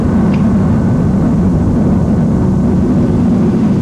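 A B-1 Lancer bomber refuelling in flight from a tanker aircraft just after launch. The jet engines make a steady, loud, low roar that continues throughout with no break.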